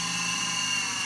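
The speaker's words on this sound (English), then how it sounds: "So you'll drill a hole inside each of the spots where your piercings" A drill boring holes for piercings into a butterfly design, a steady high whine held continuously at close range for the whole brief moment.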